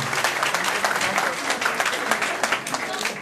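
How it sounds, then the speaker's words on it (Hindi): Loud, crisp applause from a crowd at a charity fundraising concert in Paris, many hands clapping in a fast, close texture of sharp claps that runs unbroken from start to finish. "इनके लिए भरपूर तालियां"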